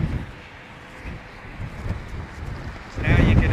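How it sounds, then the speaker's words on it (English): Strong wind from a storm buffets the microphone outdoors at an airport in London, in low, rumbling gusts that swell louder near the end. "Now you're gonna hear the wind, folks."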